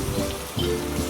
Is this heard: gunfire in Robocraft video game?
no